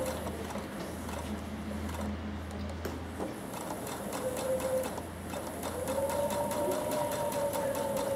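A sewing machine stitches and backstitches quilt binding with a steady ticking mechanical hum and a sustained tone, fairly quiet and close, with no talk over it.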